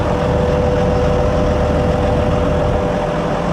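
A John Deere 7750i forage harvester's 13.5-litre engine with electronically controlled variable-geometry turbo runs at a steady, loud idle nearby, a constant low drone with a faint whine layered on top.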